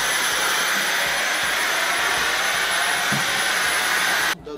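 A vacuum cleaner runs over a dog's shed fur indoors, a loud, steady, close roar that holds for about four seconds before cutting off abruptly near the end.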